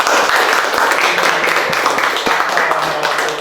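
Audience applause at a school gathering, a dense, steady patter of many hands clapping close by, loud and continuous throughout.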